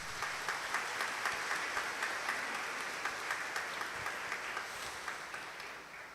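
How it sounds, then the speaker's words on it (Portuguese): A congregation at a Sunday Mass for All Souls' Day claps in rhythmic unison, steady beats heard at a distance and fairly soft, tapering off at the end. "dando a Ele uma salva de palmas."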